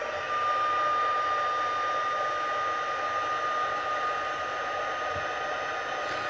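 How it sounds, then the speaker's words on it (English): A handheld heat tool blows steadily on watercolor paint on paper, making a continuous close whirring hum with a high whine and no talking. "So I'm going to go ahead and heat set this so that way it dries."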